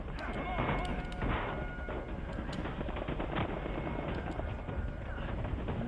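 Rapid gunfire bursts crackle continuously through a firefight in Uncharted 4, dense and sustained with sharp transient shots layered over a busy game soundscape.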